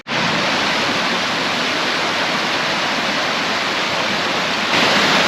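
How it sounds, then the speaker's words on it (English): Water rushes continuously along a stream on the Whinlatter Forest blue hiking trail, a loud, steady, broadband roar that holds at a constant level throughout with no voices or other sounds breaking through. "you can always hear the sound of water"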